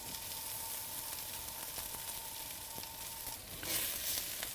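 Onions caramelizing on a hot pan make a soft, steady sizzle under a faint constant hum, with a few clicks of stirring and a louder rustling scrape near the end.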